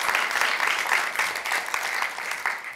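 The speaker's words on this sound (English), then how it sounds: "so big round of applause." An audience at an arts festival book talk claps to welcome a panel of young adult fiction writers, steady, dense applause filling the room throughout.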